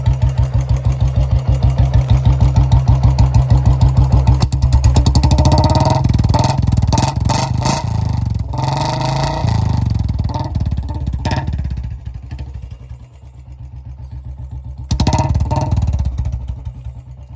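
A loud Royal Enfield Classic 350 motorcycle with a modified silencer burbles at idle, then revs up and down repeatedly with a harsh, crackling exhaust roar, close to the listener.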